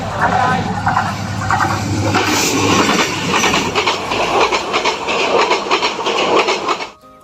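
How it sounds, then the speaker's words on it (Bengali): A train passes close by on a railway line near Sitakunda. There is a loud rolling rumble with rhythmic clacking of wheels over the rail joints, and some squealing. The noise fades abruptly at the end. "ও ফাইনালি ট্রেন আসতেছে।"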